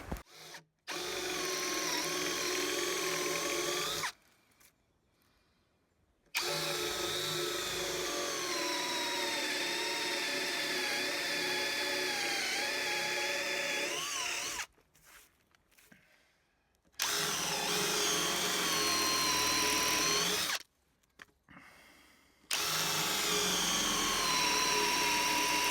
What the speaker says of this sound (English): So I take a lot of the meat out with a big Forstner bit, just staying shy of every line